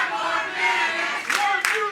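A wrestling crowd at a Chaotic Wrestling show roars in a continuous, full-throated din, with louder swells of shouting and clapping near the end.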